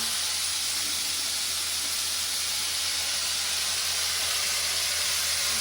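Potatoes fry in a pan for a Bengali aloo posto dish, giving a steady, even sizzle and hiss from start to end with no voices.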